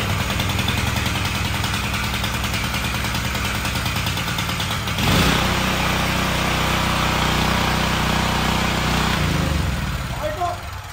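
A Blackstone 3,500 watt push-button grass cutter engine runs loud and steady nearby, its pitch shifting partway through, with people talking over it.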